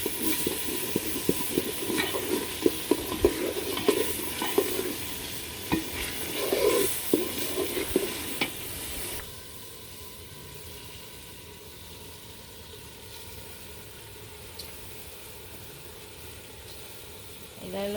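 Rice tipped into a pot of browned, sizzling meat while cooking biryani at home, giving steady frying hiss with scraping stirs for the first half, then a quieter, even simmering hiss.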